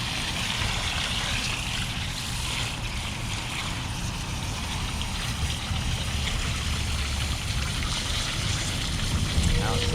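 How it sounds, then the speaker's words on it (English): Cold water running outdoors over a pleated tri-color tie-dye tee during a rinse, a steady splashing wash that stays even throughout with no talk over it. "Outside with the cold water."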